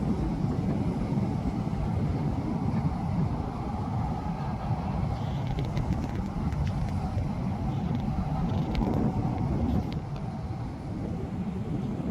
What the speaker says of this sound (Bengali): এখন এই ফ্লাইট বা বিমানটি টেক অফ করতেছে